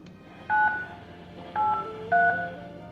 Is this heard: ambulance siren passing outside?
no